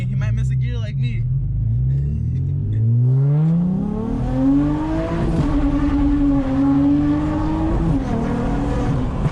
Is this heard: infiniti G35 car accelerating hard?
yes